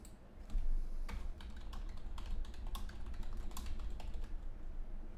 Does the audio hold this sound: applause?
no